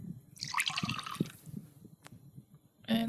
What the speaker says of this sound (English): And pour all the water